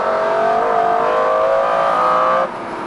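A powerful McLaren F1 engine revs up steadily with rising tonal whine, loud and close, then abruptly drops off near the end.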